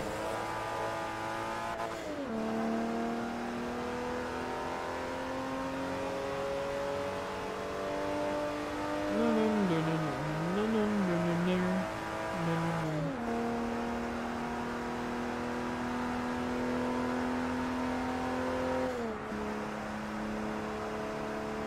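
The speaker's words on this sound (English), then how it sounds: "they've made a muscle car out of a V12" A V12 muscle-style race car in Forza Motorsport 3 roars continuously up close, with sharp pitch drops at each of several gear shifts and a wavering, warbling stretch midway as revs climb and dip.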